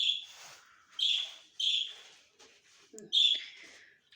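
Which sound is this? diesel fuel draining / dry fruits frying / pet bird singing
pet bird singing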